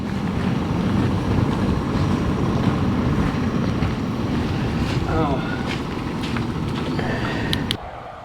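Steady wind noise roars across the microphone with a broad rushing hiss, near and constant, with faint background sounds and a brief drop near the end.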